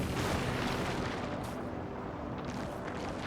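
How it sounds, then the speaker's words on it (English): A flammable canister explodes in Ambrosia Sky, producing a dense, roaring blast that rumbles on steadily for a few seconds with no voices over it. "Let's do the flammable. It'll cause some explosion, I think"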